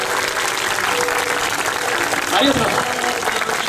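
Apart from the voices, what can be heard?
audience applause after a show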